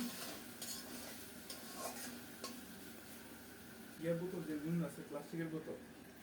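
Chicken giblets with chili powder and spices fry in a pan, a low sizzle under spoon scrapes and clinks against the metal that grow louder toward the end, with a voice speaking over it.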